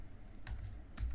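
Two quick clicks of a computer keyboard as a grep command is typed, faint and close, separated by a short pause against a quiet background hum.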